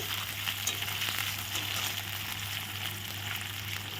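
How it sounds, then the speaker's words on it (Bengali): Paneer frying in hot oil, a continuous dense sizzle with a steady low hum underneath, close and even throughout without talk. "পনিরটা এখন ভেজে নিচ্ছি"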